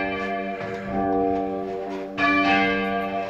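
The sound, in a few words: church bells ringing in Polesworth Abbey bell tower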